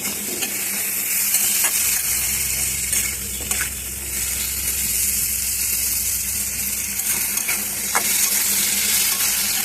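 Raw mango chutney cooked with turmeric is stirred in a hot pan, giving a continuous sizzle with a scraping, stirring texture and occasional utensil knocks against the pan, loud and close with no talk.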